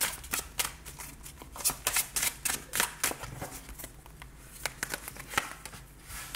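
Oracle cards being shuffled for a reading give quick, close riffling and flicking bursts in irregular flurries. The sound is soft and papery, with no talking.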